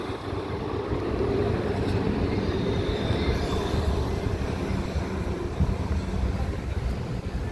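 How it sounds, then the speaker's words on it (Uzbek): A tram in Izmir, Turkey rumbles past with a steady rolling roar and rattling wheels, loud and close throughout. "İzmir tramvaylari."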